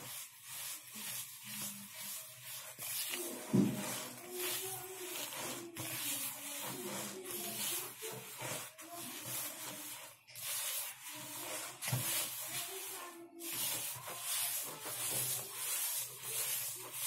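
Ghorayeba cookie dough being rubbed and worked by hand in a bowl, a continuous soft swishing and rubbing that keeps going at close range with small irregular surges, no voices.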